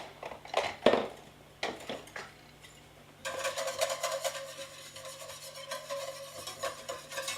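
A whisk scrapes and stirs a sizzling pan sauce to loosen browned bits for a beef dish. A few clanks come first, then steady rhythmic scraping over a continuous sizzle, close and fairly quiet.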